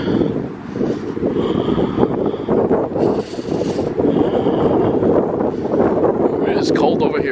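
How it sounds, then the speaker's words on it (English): Cold wind blowing outdoors on a hike in the Pine Barrens, a steady loud rushing buffet across the microphone with gusts throughout, no voice heard. "if the wind was from the southwest, it would be blowing directly at me, but it's blowing more from the west"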